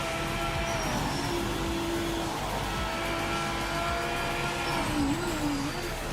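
Lamborghini mid-engine race car in Project Motor Racing, a racing video game, droning steadily at high revs with shifting engine pitch, a tire squeal and a slight rev change near the end, continuous and close with no talk.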